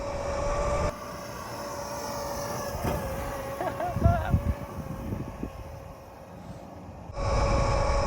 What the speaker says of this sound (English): It sounds like a Jeep on the road. It's like, it's got like a tread noise